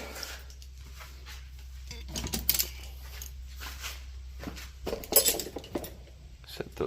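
Metal tools in a garage during work on a Firebird are shifted and set down with scattered clinks and clanks, louder bursts near the middle and end over a low background hum.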